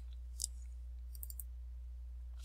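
Typing on a computer keyboard gives a few sparse, quiet clicks: a short burst of several keystrokes over a low steady hum, no talking.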